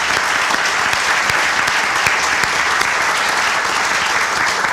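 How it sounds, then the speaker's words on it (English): A stadium groundbreaking crowd at Dowdy-Ficklen Stadium applauds in a steady, dense wash of clapping that holds loud and even for the whole stretch, with no voices rising above it. "Let's give them a big round of applause."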